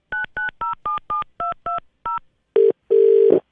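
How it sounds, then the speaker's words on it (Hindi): A telephone number keyed in on a keypad for a radio prank call: eight crisp, evenly spaced DTMF beeps, a pause, then two longer, louder tones, with no voices over them. "मैं उस पर फोन कर रहा हूँ"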